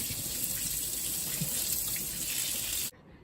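Kitchen tap water runs steadily into a sink while potatoes are washed, a close, even rush with faint splashing that cuts off abruptly near the end, leaving silence; no one speaks.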